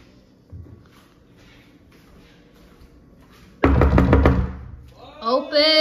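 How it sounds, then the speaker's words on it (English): A fist pounds a bedroom door in one loud burst of rapid knocks after a quiet stretch, and a voice follows right after. "I'm gonna knock on his door."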